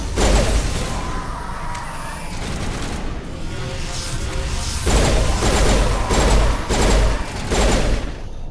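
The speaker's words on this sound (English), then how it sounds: "Why am I shooting in threes?" A pistol in the Mass Effect video game fires in rapid three-round bursts amid dense mechanical clatter and booming effects, loud and continuous over several seconds.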